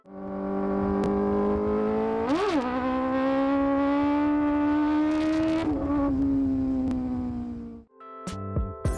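A high-revving Kawasaki ZX-10R four-cylinder motorcycle engine holds a smooth, sustained whine for several seconds with a quick blip, then cuts off and sputters briefly.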